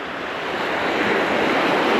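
Waves wash onto a sandy beach at the water's edge in a steady, loud rushing surf that swells slightly toward the end, with wind noise and no voices.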